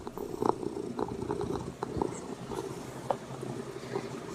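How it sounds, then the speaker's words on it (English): A cat purrs close by in a low, rumbling, rhythmic drone with small bumps and rustles, no talking over it. "Where's the cat? Where's the pretty cat?"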